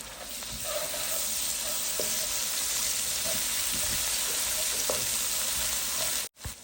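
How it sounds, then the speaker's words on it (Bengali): Ginger garlic paste with dried chillies frying in hot oil gives a steady, dense sizzle with faint stirring taps, close and continuous, cutting off sharply near the end. "আদা রসুন কষানো শেষ"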